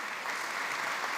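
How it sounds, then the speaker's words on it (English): A brief, soft burst of audience applause at a fireside chat during SXSW 2025, steady clapping from a seated crowd heard alone. "Please give him a round of applause."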